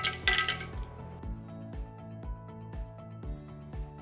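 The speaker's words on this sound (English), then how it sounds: "I'm going to add the cashew nuts." Cashew nuts dropping into warm ghee in a metal pan, a series of sharp clinks and light taps at an irregular, roughly half-second rhythm, close up and fairly quiet, with no talking.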